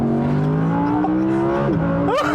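A 2020 Audi R8 mid-engine V10 supercar engine revs loudly and steadily, its pitch climbing in sustained pulls, then blipping sharply upward at the end.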